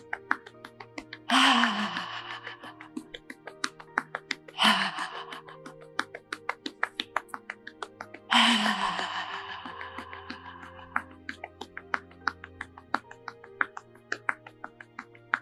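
Deep breathing during a relaxation exercise for stomach pain, heard as three long, fairly loud breaths spaced a few seconds apart, each swelling then fading, over a steady low hum with small clicks.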